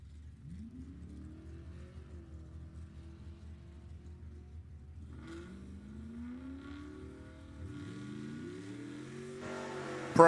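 A Camaro race car launches at a drag strip during ET bracket racing, its engine revving and rising in pitch as it accelerates, with a second rising engine sweep midway and the roar building louder toward the end.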